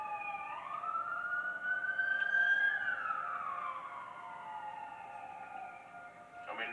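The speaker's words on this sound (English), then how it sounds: "We gonna hear sirens." An emergency vehicle siren wails through a city street, one long tone rising and then slowly falling, moderately distant and fairly faint above a low urban rumble, with no voices.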